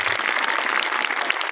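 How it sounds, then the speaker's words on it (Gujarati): A large crowd at a Thakor community get-together in Becharaji applauds loudly, with dense, steady clapping that holds at full strength throughout and no talk over it. "એકવાર વિક્રમભાઈ માટે જોરદાર તાળીઓ પાડી દી, જરા ખખડીને તાળીઓ પાડી"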